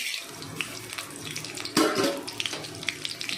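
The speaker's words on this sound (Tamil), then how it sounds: "இங்கே கடுகு, கடலைப்பருப்பு வச்சுருக்கேன். இப்போ இதை எண்ணெயில் போட்டுருவோம். எண்ணெய் சூடாகிடுச்சு." Mustard seeds and chana dal crackling in hot oil, a steady bright sizzle with scattered pops, closer and louder bursts partway through, no talking.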